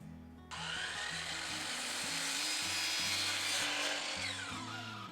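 A power saw slices through a vinyl stair rail, starting abruptly after a brief pause and keeping up a loud, harsh, continuous cutting whine over a low motor hum.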